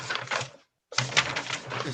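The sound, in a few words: someone typing on a keyboard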